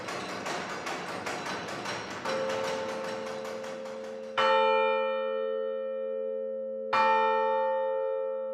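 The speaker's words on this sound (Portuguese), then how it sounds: "a operar o teclado que faz tocar estes badalos" Carillon bells at the Mafra National Palace ring out, a busy run of overlapping strikes giving way to two sharp, resonant bell hits that hang and decay, loud and clear with no talk.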